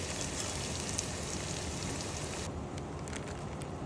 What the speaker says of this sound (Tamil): இது எண்ணெயிலே நல்லா வதக்கி எடுத்துப்போம்